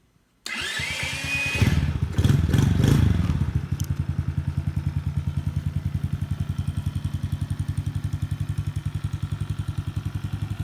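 Venom 50cc mini chopper motorcycle with a 4-stroke engine fires up on electric start, revving loudly for a few seconds before settling into a steady, rapid idle putter that runs on alone.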